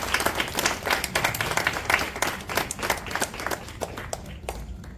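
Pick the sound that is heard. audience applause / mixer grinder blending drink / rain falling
audience applause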